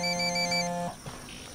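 A telephone rings in Ghost Recon Wildlands, a steady electronic ringtone that plays clearly for just under a second before cutting off, leaving only quiet ambience.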